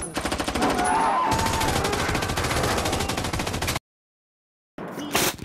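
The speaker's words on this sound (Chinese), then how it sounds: "现在看看真实的枪械开火" Real firearms fire in rapid bursts, dense, loud repeated reports in a sustained volley, a sudden gap of silence, then a brief renewed burst.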